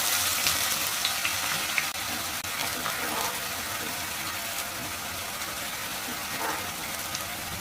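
Onions fry in hot oil in a pan for beresta, the crisp fried onion topping for beef rezala, giving a steady, dense sizzle and crackle that runs evenly throughout with no talking.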